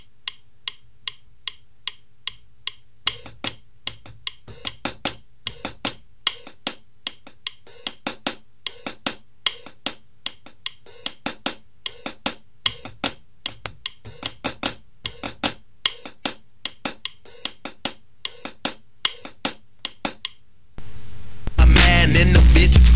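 An Alesis SR16 drum machine ticks out a beat: sparse sharp clicks at first, then a busier repeating pattern of crisp hits, cut off by a burst of noisy hum at the end.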